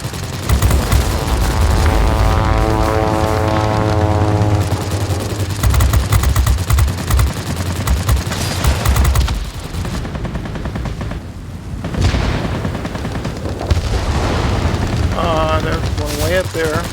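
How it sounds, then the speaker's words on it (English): Warplane machine guns in World of Warplanes, firing in loud, sustained rapid bursts over a droning aircraft engine, with short gaps and someone talking over the action. "Even though he's out of the range of our guns, I still fire."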